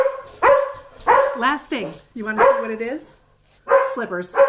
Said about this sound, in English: So I apologize for the dogs barking.